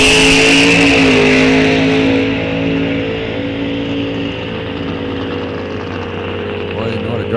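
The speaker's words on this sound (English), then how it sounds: "Boy, you know how to drive that car right out the door." A drag race car launches at a test-and-tune session at Rock Falls Raceway, a loud, close engine roar that fades steadily as the car pulls away down the strip, with a voice talking over the tail end.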